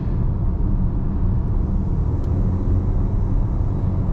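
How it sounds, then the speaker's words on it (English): A 2024 VW Atlas SE with an eight-speed transmission carries a steady, loud cabin rumble of engine and road noise while driving, with any turbocharger spool sitting low and continuous inside the hum. "definitely hear the turbocharger spool"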